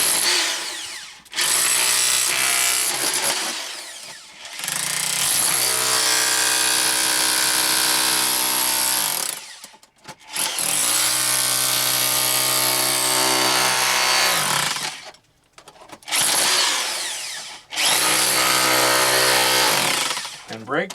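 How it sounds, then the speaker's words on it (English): A demolition hammer breaks material near an edge, loud, rough hammering in long sustained bursts separated by short pauses, close by and dominating the scene. "you want to take your demolition hammer near the edge"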